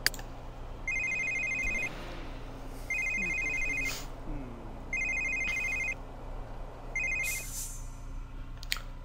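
A telephone in the video game The Sims 3 rings four times in an even electronic pattern, each ring a bright, clear trill with short gaps between them, over a quiet game background.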